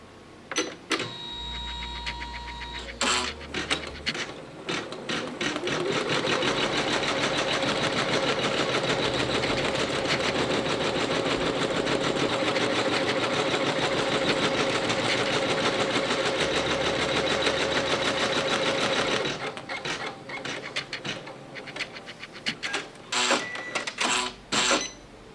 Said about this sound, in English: is only going to take 5 minutes if you have a machine running on 600 stitch per minute